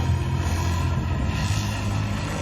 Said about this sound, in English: He's actually going to forward flip the helicopter.